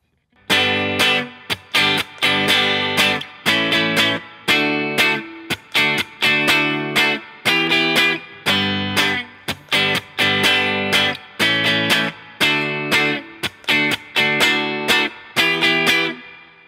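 An electric guitar strums bar chords in a choppy, rhythmic pattern, with crisp stabs separated by short muted gaps, loud and close.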